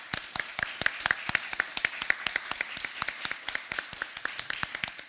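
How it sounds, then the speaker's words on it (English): An audience claps at a storytelling festival symposium: a brisk, steady run of sharp, fairly close hand claps that carries on evenly throughout without cheering. "Give yourselves a clap."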